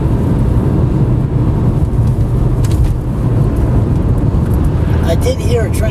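A loud, continuous low rumble of a heavy vehicle, deep and steady like a passing train, filling the whole stretch.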